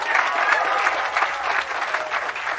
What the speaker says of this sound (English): you can clap for my mom,